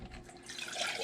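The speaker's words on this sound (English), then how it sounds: "3/4 of a cup of water" Water pours into a saucepan while fish dough bait is being made, a short steady splashing pour that rises slightly in strength toward the end, with no talking.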